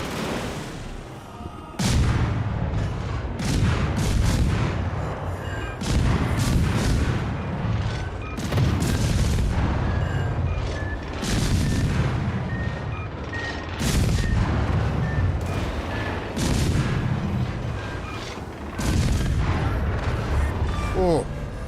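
Heavy tank cannon shots boom in a video game, about six loud blasts spaced a few seconds apart, each followed by a rumbling decay. Faint electronic beeps and interface tones sound between the shots.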